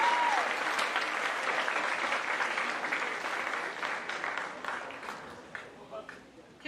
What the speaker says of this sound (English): If we could give them a nice round of applause for that